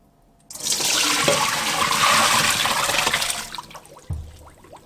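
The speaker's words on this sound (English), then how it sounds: "I'm going to fill this back up with cold water." Cold tap water gushes into a casserole dish of cooked pasta, a loud, close, bright rushing stream lasting about three seconds before tapering off, followed by a low clunk.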